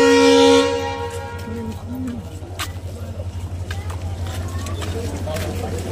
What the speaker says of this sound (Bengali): ট্রেন ছেড়ে দিয়েছে, হর্ন দিয়ে দেখুন